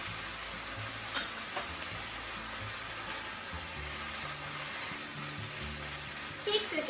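Wakame and garlic fry in a pan with mirin and soy sauce, giving a steady, fairly quiet sizzle that runs throughout, with a few faint clicks and stirring touches.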